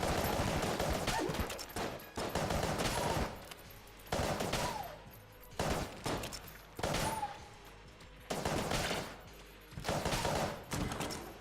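Bursts of rapid automatic gunfire from an AK and a Polaris in the Enter the Gungeon game, several loud volleys of a few seconds each separated by short pauses.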